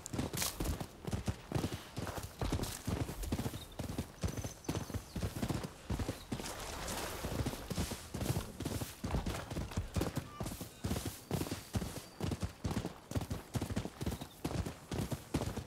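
Rapid, rhythmic horse hoofbeats clip-clop continuously and up close while riding in the video game Rise of the Ronin, loud and steady throughout.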